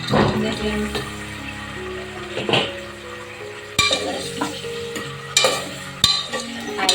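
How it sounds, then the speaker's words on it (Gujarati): Cluster beans added to fried potatoes in a pan, a soft sizzle broken by repeated spatula scrapes and metallic clanks against the pan at irregular intervals. "આપણે બટેકા સારી રીતે ફ્રાય કરી લીધા છે તો હવે આપણે એમાં એડ કરશું ગુવાર"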